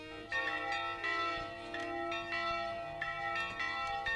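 Church bells toll in a 1980 Romanian drama film, with repeated ringing strikes that overlap into a rich, resonant peal, steady and fairly loud, with no voices.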